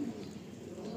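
Andhra Lalsira Star Kalanka pigeons cooing, a short low, soft coo close by against a faint background hum.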